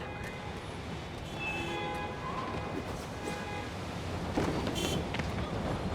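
Train rolling past in the Spider-Man PS5 (Remastered) video game, a steady rumbling rush with faint horn-like tones, holding level throughout and swelling slightly toward the end.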